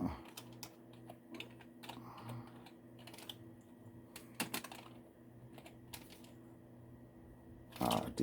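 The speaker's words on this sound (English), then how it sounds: "let's type that in again." Keys clatter on a computer keyboard in short irregular bursts, fairly close and moderately quiet, with brief pauses between runs of typing and no talking over it.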